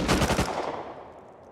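Rapid automatic gunfire in Rust: a quick burst of about six close, loud shots in a tight rhythm, then a decaying echoing tail with no talking.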